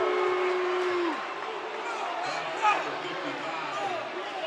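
A basketball crowd at a high school state playoff game sends up a sustained, disapproving roar after a foul call, a broad wash of noise that starts with a whistle and carries on under an announcer's voice.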